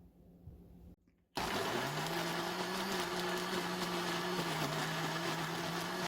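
A blender grinds kkakdugi seasoning made with sand lance fish sauce and plum extract, starting after a brief pause and running loud and steady with a constant whirring drone to the end.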